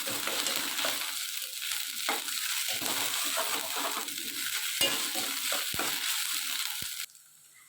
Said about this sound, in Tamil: இந்த இஞ்சி பூண்டு பேஸ்ட்டோடைய பச்சை வாசனை போகிற வரைக்கும் நம்ம வந்து நல்லா வதக்கிக்கலாம்